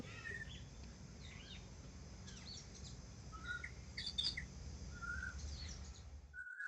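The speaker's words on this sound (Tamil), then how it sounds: "மரத்துக்கு மேல நல்லா காக்கா குருவி எல்லாம் சேர்ந்துக்கிட்டு கத்திக்கிட்டு" Crows and sparrows calling from a tree, scattered chirps and squawks coming and going over a steady low background hum, fairly faint and distant, with no talk.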